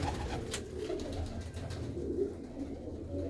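Pigeons coo softly over steady background noise in a continuous low murmur, with no voices.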